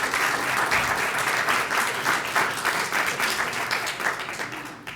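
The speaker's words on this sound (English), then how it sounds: "Now that's worth a round of applause." A crowd claps through sustained applause at a live broadband launch event in Virginia, dense and fairly close, steady for several seconds before beginning to taper off.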